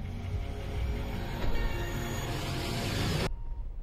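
A train rumbles past in a film trailer, a loud, dense roar of wheels and carriages with a brief squeal partway through, cutting off abruptly near the end.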